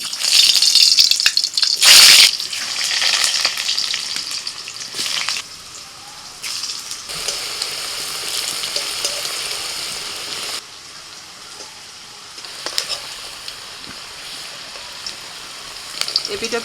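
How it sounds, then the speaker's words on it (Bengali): Boiled potatoes frying in hot oil in a wok for a bhaja side dish, a steady close sizzle and crackle with a loud burst near the start and a brief talking voice over it. "কড়াইতে তেল দিয়ে দিয়েছি, এবার আলু ভেজে নেব।"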